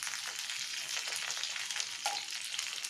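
Jujube pickle sizzles steadily in a pan while being stirred, with salt added, producing a continuous soft crackling hiss with faint scraping, no voices.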